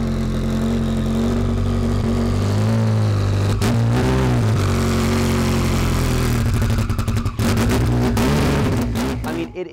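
A Citroën ZX Rallye Raid car engine revs hard and loud nearby, a sustained throaty roar with rising and falling pitch and sharp throttle blips toward the end.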